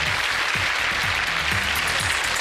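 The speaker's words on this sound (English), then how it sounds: "give him a big round of applause, everyone" Studio audience applauding a departing game show contestant, a steady, full wash of clapping that carries evenly from start to finish with a faint voice beneath.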